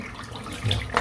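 Tap water running into a bathroom sink, a steady close rush with a small splash near the end.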